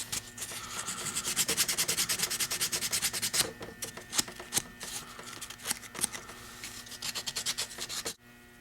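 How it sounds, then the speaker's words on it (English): Sandpaper rubbed back and forth over a knife to take off resin, giving steady rapid rasping strokes up close that pause briefly mid-way, resume in shorter bursts and stop abruptly at the end, with no voices. "I just wanted to show you I did sand those down."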